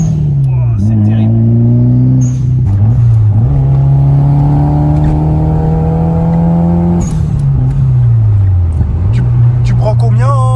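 Nissan 200SX S13 engine revs hard and close, rising and falling in pitch through repeated blips and a long held rev before dropping back, very loud throughout.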